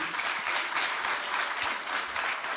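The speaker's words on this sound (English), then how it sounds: "Round of applause for the team." Steady audience applause for a team at an EdTech Mondays event on inclusive classrooms, a dense wash of clapping that holds at an even level throughout with no talk over it.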